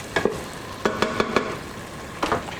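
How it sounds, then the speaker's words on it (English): Short ribs searing in a pressure cooker are stirred, giving a few sharp scraping clatters in quick clusters over a steady sizzle, close and fairly loud, with no talking. "Give that a bit of a stir."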